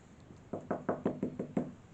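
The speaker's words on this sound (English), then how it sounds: "That was me, by the way, that just set that off because I was knocking." Knuckles knock on an old wooden church pew, about seven hollow, evenly spaced raps in quick succession, close and fairly loud in a quiet room.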